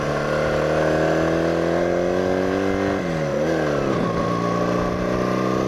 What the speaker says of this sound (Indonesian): Itu banyak truk.